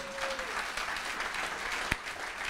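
A church congregation applauding: a continuous, fairly soft wash of clapping from many hands that fills the space evenly, with one sharper clap standing out near the end.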